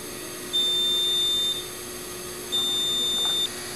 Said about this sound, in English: At the end of the program, a buzzer will sound